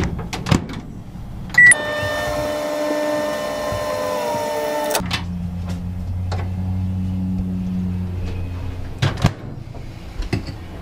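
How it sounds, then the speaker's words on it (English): A microwave oven melting butter in a boat galley, starting with beeps and a door thud, then a steady tonal electrical hum for a few seconds that cuts off, followed by a lower rumbling drone and clicks. "It's time to melt the butter. It's about 2 tablespoons, and I am going to use the microwave"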